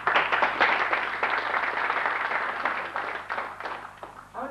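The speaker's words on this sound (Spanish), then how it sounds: "mi aplauso especial para todos ustedes." An audience at a book presentation about Carlos Gardel breaks into warm, sustained applause, with dense overlapping claps that gradually thin out over a few seconds.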